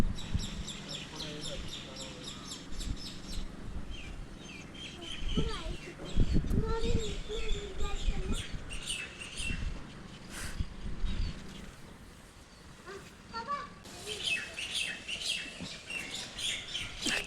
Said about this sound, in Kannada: ಹಕ್ಕಿಗಳ ಚಿಲಿಪಿಲಿ